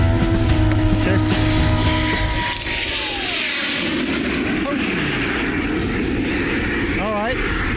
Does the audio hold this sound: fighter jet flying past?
yes